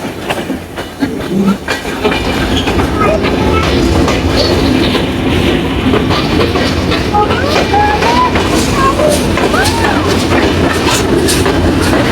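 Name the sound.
Benapole Express train running on rails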